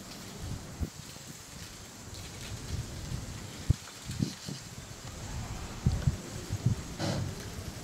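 Steady rain patters continuously with occasional heavier drops and low rumbles, close and moderately loud, with no voices.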